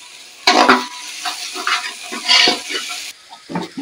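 Garlic and ginger paste dropped into hot oil in a pan while making biryani, sizzling in bursts with stirring scrapes, close and fairly loud, fading quieter toward the end.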